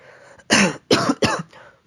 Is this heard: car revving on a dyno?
no